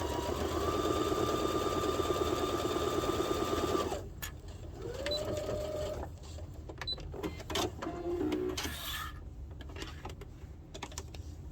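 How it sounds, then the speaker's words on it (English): A sewing machine stitches steadily along the edge of a child's wallet for about four seconds, then gives a few short bursts and clicks from handling the fabric, all close and fairly quiet. "We're going to sew along that edge, we're going to flip it, and then we're going to do a nice top stitch."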